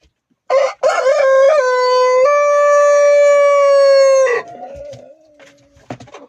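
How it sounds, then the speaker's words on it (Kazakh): A Jersey Giant rooster lets out one loud, close crow lasting several seconds in an evening farmyard with other chickens, followed by softer clucks and small flock sounds. "24 балапан тауықтары, біреуі 24-тің әтеші, қалғандары осы биылғы балапан тауықтар."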